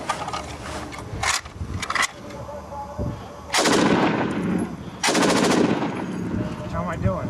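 Loud bursts of automatic gunfire at target practice, two long heavy volleys in the second half after a few sharper single shots, close and booming over outdoor ambience.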